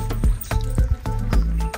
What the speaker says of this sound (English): The water is boiling.